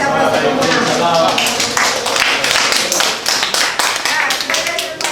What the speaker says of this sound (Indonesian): ya kasih aplaus dulu